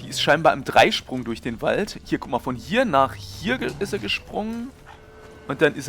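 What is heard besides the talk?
No everyday noises stand out.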